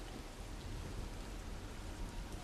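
Rain falls steadily and heavily in a continuous, even hiss of drops on a surface, softly rumbling underneath, with no voices.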